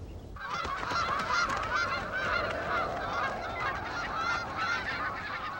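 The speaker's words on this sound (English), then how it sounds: "The geese are nearing the end of their journey from the south." A flock of geese honks continuously, many overlapping calls close and loud over rushing wind, as the birds fly north in early June between high Alaskan peaks.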